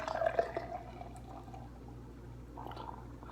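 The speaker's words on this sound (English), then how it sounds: "let's give it my aggressive pour like I always do in my Samuel Adams glass" Monkey Mouth IPA from Grand River Brewing Company is poured hard into a Samuel Adams glass, a soft splashing fizz that is busiest at the start, then settles into a quiet, steady gurgle with no talking.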